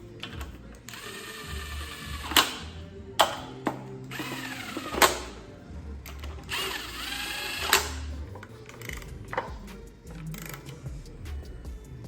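Short bursts of a power driver or ratchet tightening the oil pan bolts on a turbo 6.0 engine during a rebuild, several brief whirring runs spread across the clip with quieter gaps of handling between them.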